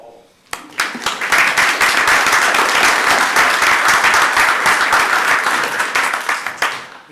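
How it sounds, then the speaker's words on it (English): A room full of people at a parish council meeting breaks into sustained, dense clapping that swells quickly and holds steady before tapering off near the end. "I think that deserves applause."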